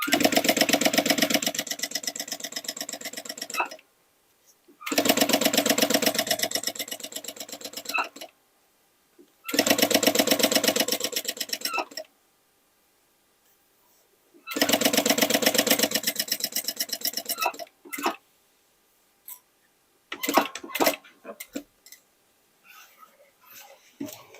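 Sewing machine stitching denim from old jeans for a make-up bag, running in several bursts of a few seconds each with pauses between, followed by faint clicks and handling noises.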